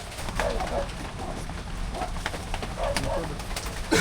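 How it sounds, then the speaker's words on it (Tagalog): A pigeon coos in soft repeated phrases outdoors near a hole in the ground, fairly close but low in level, over light ambient rustle with no talking. "Ay, may kalapati pala."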